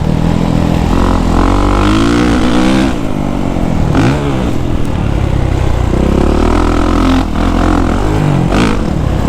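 A 2023 Kawasaki KX450SR 450 motocross bike with a Pro Circuit exhaust pipe, loud and close, revving hard with a grunty low bark that rises and drops through repeated throttle blips and gear changes.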